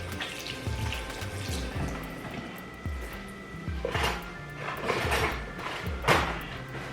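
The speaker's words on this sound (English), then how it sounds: "I'm gonna wash my hands" Tap water runs into a kitchen sink while hands are washed under it, a steady close splashing stream with shifting bursts as the hands move through the flow.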